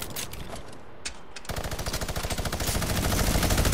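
Rapid automatic gunfire in Fortnite. Scattered shots give way to a steady, fast rattling burst that carries on loud to the end.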